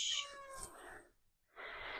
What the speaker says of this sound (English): Please excuse my cat.